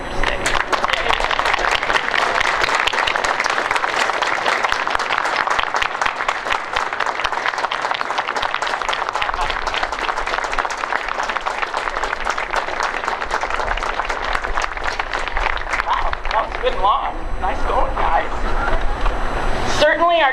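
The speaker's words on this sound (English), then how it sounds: "a hearty round of applause and an extra yay mom" A large audience at a basic training graduation ceremony applauds and cheers for parents on Mother's Day, sustained dense clapping filling the space from start to finish, with a few voices rising near the end.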